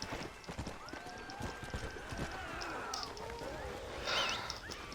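Horse hooves clip-clopping at a gallop in the game Red Dead Redemption: Undead Nightmare, a steady rhythmic beat mixed with faint whinnies and game sounds, fairly quiet overall.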